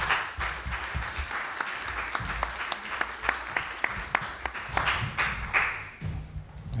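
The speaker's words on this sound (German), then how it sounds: "Ich hoffe, dieser Applaus und dieser Dank wird Stefan Berger" A conference audience applauds steadily, many hands clapping at once in a dense, sustained burst that stays fairly even in loudness throughout and carries no speech over it.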